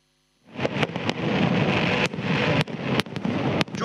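Fireworks shells launched over New York's East River at a large Independence Day display, producing a dense, continuous roar of bursts and crackle, with several sharper loud pops standing out, no voices.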